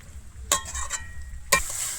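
Fried potato pieces and green jackfruit sautéing with spices in a pan over low heat, a soft background sizzle broken by two sharp scraping stirs about a second apart, with no talking.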